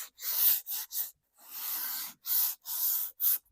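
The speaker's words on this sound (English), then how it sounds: "So it's definitely very easy to sand." Sanding a thrifted wooden furniture piece by hand, a close, rasping scratch in bursts of strokes with short pauses between them.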